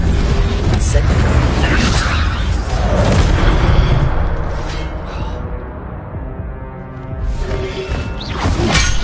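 The Incendio fire spell in Hogwarts Legacy erupts in loud whooshing blasts and booming crashes amid ongoing spell combat, dense and close, with brief quieter gaps and a voice calling out.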